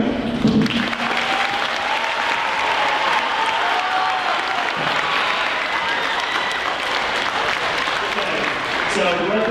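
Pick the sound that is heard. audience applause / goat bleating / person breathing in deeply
audience applause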